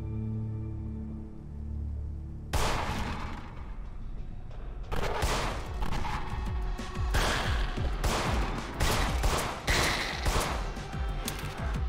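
Gunfire in the horror game In Sound Mind: after a quiet start, a dense burst of loud shots and impacts erupts and continues in rapid repeated volleys with no talking.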